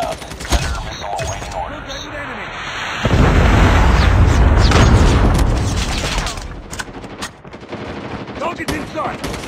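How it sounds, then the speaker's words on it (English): A Predator missile strike in Call of Duty lands as a deep, rumbling explosion in the middle of the clip, set among rattling gunfire and game effects and lasting several seconds before fading. "Predator missile inbound."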